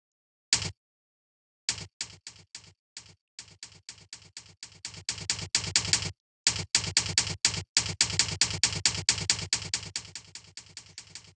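Keys clacking on a computer keyboard in quick irregular bursts, each press crisp and distinct, with brief pauses between runs.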